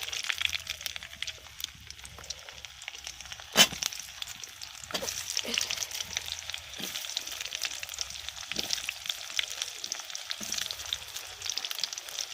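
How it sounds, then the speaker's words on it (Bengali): Potato pieces frying in oil left over from frying paneer, a faint continuous sizzle with occasional clicks and one sharp knock, close and quiet with no talking. "এইবার আমি ওই তেলেই আলুগুলোকে ভেজে নেব।"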